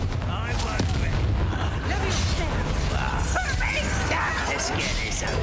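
A Bombarda explosion spell goes off in Hogwarts Legacy amid a busy, loud battle of booming blasts, crackling magic and rumbling low end, with voices mixed in throughout.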